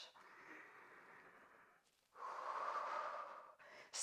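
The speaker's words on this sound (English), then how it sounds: "Still breathing deeply." Slow, deep breaths during a Pilates mat workout: a long, soft breath is followed by a brief pause and then a louder, rushing breath of about a second and a half, close to the microphone in a quiet room.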